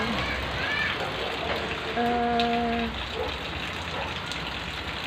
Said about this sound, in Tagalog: Ang lakas-lakas ng ulan guys.